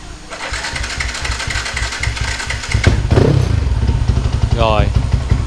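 A motorcycle engine cranks and catches, then runs with a steady, loud, rapid putter at close range.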